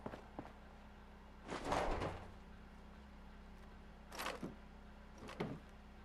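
Sliding door opening in Fallout 4, heard as a burst of mechanical whoosh and rumble followed by two shorter sliding or latching sounds, moderately loud over a steady low hum.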